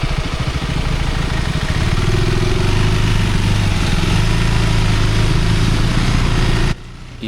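A motorcycle engine runs steadily and loud on a forest road in Kerala, a close, rough drone with a low throbbing pulse that cuts off abruptly near the end.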